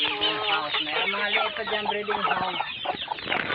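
Rooster clucking up close at a backyard farm, a run of rapid throaty clucks and short squawks that carries on continuously and loudly with no talk over it.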